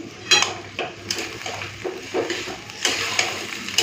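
A spoon stirs pumpkin curry in a cooking pot, a series of close, sharp scraping clinks and knocks against the metal at an uneven, quick pace.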